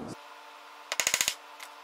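A hammer raps a broken tap stuck in a titanium workpiece in a quick run of about six sharp metallic taps, close and crisp, preceded and followed by brief single knocks.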